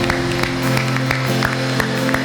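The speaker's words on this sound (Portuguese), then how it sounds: "Aplauda Ele com alegria." A congregation claps during a church celebration service, brisk rhythmic applause over sustained musical tones.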